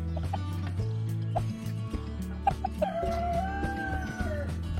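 Marans hens, a traditional French laying breed raised on a family farm, cluck continuously close by, with repeated short calls and some higher drawn-out vocalizations layered over a steady low hum.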